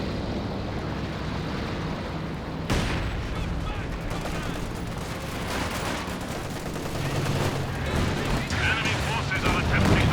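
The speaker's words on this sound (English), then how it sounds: "Katyusha barrage, trying to catch these guys retreating into it." A Katyusha rocket barrage in a WWII strategy game, dense dull rumbling blasts rolling continuously and building toward the end, with battle noise and a voice talking over it.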